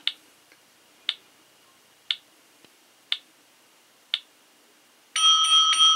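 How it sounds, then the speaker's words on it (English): A Wok Star board game timer ticks in five sharp, evenly spaced clicks about a second apart, then its bell rings out loud and bright, sustaining to the end. "I'm going to let you hear the bell here in just a second"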